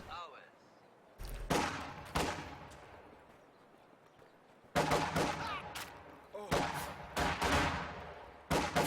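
Grenadiers and combat engineers exchange gunfire in Company of Heroes 2: sharp, loud bursts of rifle and machine-gun fire break out in several clusters between quieter stretches, with faint talk underneath.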